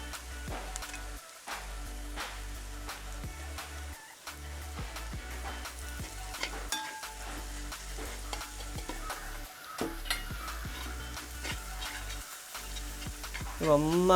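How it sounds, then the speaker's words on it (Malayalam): Ground masala paste for a Kuttanad-style Kerala duck roast sizzling steadily in hot oil in a pan, with a spoon or ladle stirring and scraping in irregular strokes, close and continuous without speech. "കുറച്ച് വെള്ളം കൂട്ടി നന്നായിട്ട് അരച്ചെടുത്ത് ആ മസാല നമുക്ക് ഇതിലേക്ക് നമുക്ക് ആഡ് ചെയ്യാം"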